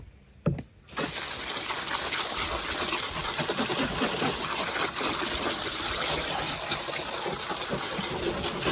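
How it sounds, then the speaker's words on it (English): Water pouring into a drywall-like worm food mix, starting after a brief clunk and then running as a steady, close gushing trickle that continues to the end without talking. "Add a little bit more water and it'll be ready to go."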